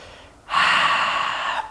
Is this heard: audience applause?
no